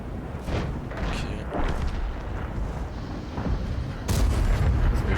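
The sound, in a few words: tank cannon shots at tracks in World of Tanks video game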